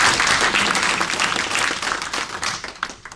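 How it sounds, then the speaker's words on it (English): Breakfast club audience applauding, a dense burst of clapping that starts strong and thins out toward the end into a few scattered claps, with no talk. "Can we get some applause for that idea?"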